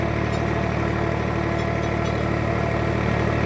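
A household farm tractor's engine runs at a steady idle, a constant close rumbling drone with no breaks and no talk.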